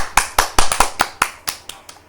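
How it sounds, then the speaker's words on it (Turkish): Hands clap sharply and close up, about ten bright claps in an uneven rhythm over two seconds, loud and clear with no talk over them, as a small group applauds during a casual game session. "Alkışlıyoruz."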